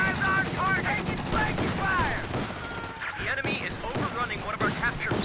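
Rapid bursts of FG-42 automatic rifle fire from Fallschirmjäger troops crackle through a Company of Heroes 2 battle, mixed with other gunfire and explosions, loud and dense, under a commentator's voice.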